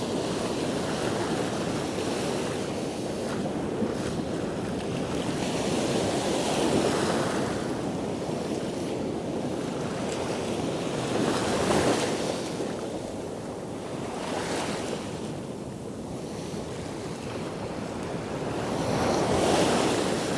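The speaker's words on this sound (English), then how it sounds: "every time them waves splash right in front of you, I'm getting wet on my arms and hands and stuff" Sea waves break and splash against rocks beneath eroding cliffs on the shore, a continuous rushing surf with swells rising and falling every few seconds, mixed with buffeting wind noise and no voices.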